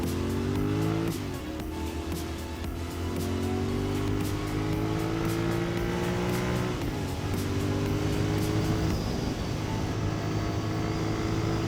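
A GT motorcycle cruising steadily at 120 on a highway, its engine drone continuous and close, with shifting tonal harmonics and steady wind noise throughout.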